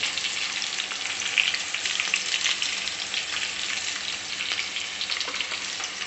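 Thin bitter gourd (kakarakaya) chips frying in hot oil: a continuous bright sizzle and crackle with small popping bubbles, close and steady, with no talking.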